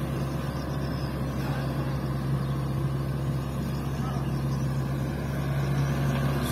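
A fully loaded dump truck carrying fill soil idles and pulls away with a steady low engine drone and rumble, moderately distant and constant throughout.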